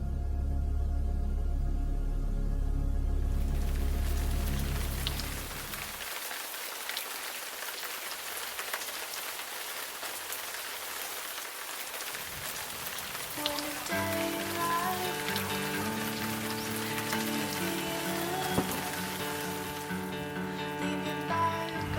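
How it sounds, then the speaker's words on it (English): Rain falls steadily on an outdoor lacrosse practice area, a broad continuous hiss that shifts in texture partway through, with faint musical tones mixed in later. "Practice is canceled because it's raining"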